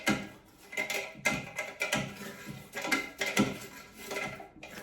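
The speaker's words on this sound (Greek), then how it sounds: "Τρίβω πάρα πολύ καλά το λαστιχάκι για να φύγουν τα άλατα από πάνω." A rubber toilet cistern seal is rubbed hard by hand to clear off limescale, giving a close, uneven series of scuffing, scraping strokes with small knocks, quiet and without speech.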